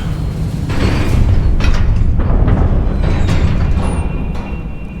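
A Confringo blasting spell explodes in the video game Hogwarts Legacy, a loud, heavy rumbling boom that swells quickly and holds a dense low roar for several seconds before easing off slightly at the end.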